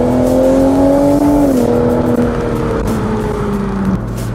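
A 2019 BMW Z4 M40i on a Cape Town road gives a loud, close engine drone that shifts pitch as it pulls away, with no talking.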